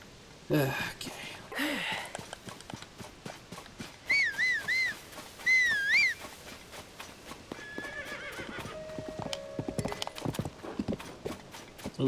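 Horse galloping in the Zelda game Tears of the Kingdom: steady rapid hoof clip-clops run through the whole stretch, with two loud whinnies near the middle and game sound effects over the hoofbeats.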